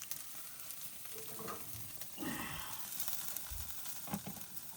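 Soybean chunks fry in a pan, a steady soft sizzle with intermittent stirring clatter and a few louder bursts, cooking outdoors near mangrove forest.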